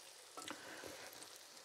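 Kefir and apple pancakes sizzle steadily in hot fat in a frying pan, with a constant close crackle and a couple of brief clatters as they are turned, no voices.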